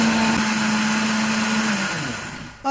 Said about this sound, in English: So I'll just keep, go ahead and keep blending.